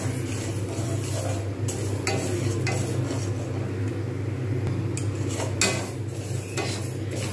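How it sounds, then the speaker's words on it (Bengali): Moong dal dry-roasting in a pan with no oil, a steady close scraping and stirring with occasional clinks of a utensil against the pan over a low, constant hum. "আমি এটাকে কাঠখোলায় ভেজে নিচ্ছি"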